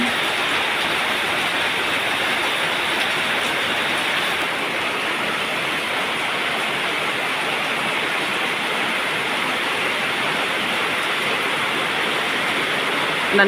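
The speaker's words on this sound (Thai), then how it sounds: "จะได้มีฝน มา ตก สัก ที" Rain falls in a broad, steady hiss that stays constant and fairly loud throughout, with no talking over it.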